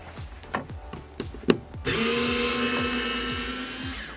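A power driver with a Torx 25 bit removes the window motor screws inside a Ford Fiesta door, a few faint clicks and taps, then a steady whirring drive lasting a couple of seconds, close by.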